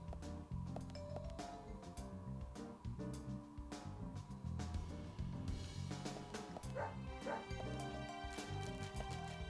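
A dog barks and yips in the video game Deadly Premonition, short excited calls scattered over dense game music, with no speech.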